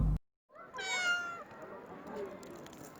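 A street cat with an injured, immobile right hind leg meows once, a loud close plaintive cry rising and falling over about a second, followed by quieter rustling background.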